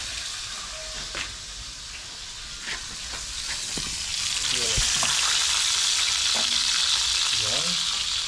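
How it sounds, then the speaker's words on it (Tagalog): Tilapia frying with tomato and onion in a pan, a steady loud sizzle and hiss that swells after a few seconds as ingredients go in, with occasional spatula scrapes and stirring clicks, no voices. "Pinirito yung tilapia."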